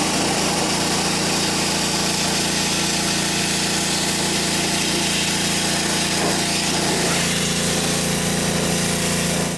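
A loud, continuous blast of air or engine-like roar close by while a DeLorean engine's connectors are blown dry, holding steady for several seconds with a slight change in tone near the end.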